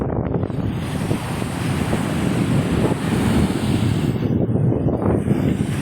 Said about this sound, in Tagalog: Tapos ang hangin-hangin niya pa.